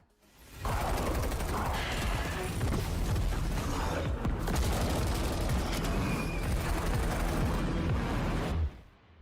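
Gunfire and mechanical weapon clatter in the FBC Firebreak video game trailer, a dense, loud, continuous mix of shots and metallic clanks running for about eight seconds before cutting to silence.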